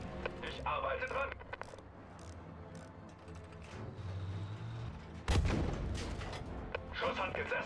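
A tank cannon fires in the World War II shooter Battlefield V, one heavy, loud boom erupting late amid a busy battlefield mix of clanking tank machinery and distant gunfire, with soldiers shouting over it.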